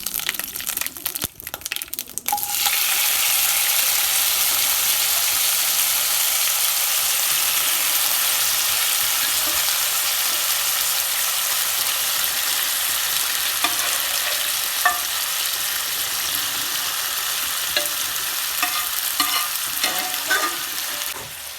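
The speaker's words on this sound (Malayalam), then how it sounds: "ആ പാനിലേക്ക് അല്പം ഓയിൽ ഒഴിച്ച് കുറച്ച് കറിവേപ്പിലയും ഇട്ട് കൊടുത്ത് മൂത്ത് കഴിഞ്ഞാൽ വേവിച്ച് വെച്ച ബീഫ് ഇതിലേക്ക് ചേർത്ത് കൊടുക്കാം" Cooked beef frying in oil with curry leaves in a pan gives a loud, steady sizzle after a short burst of clatter, with scattered stirring scrapes and crackles throughout.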